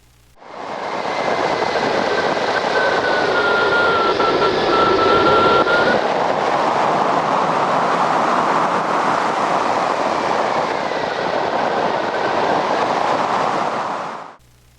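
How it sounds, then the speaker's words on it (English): Loud, steady wind rushing past a stalling hang glider roars for several seconds, a broad whooshing noise that swells in quickly, holds, and fades as the glider slows. "if you listen to the wind, you can hear the glider slow down"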